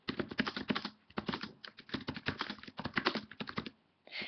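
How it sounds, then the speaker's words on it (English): Text being entered on a computer keyboard, quick close clusters of key clicks in bursts with brief pauses, quiet and alone. "So I'm just going to enter some text into the quick edit page"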